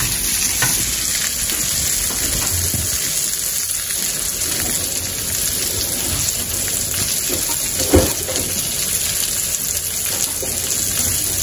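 Vegetables frying in a pan for a salmon dish, a loud, dense, continuous sizzle like rain on a surface, close up, with a brief clatter near the end and no talking.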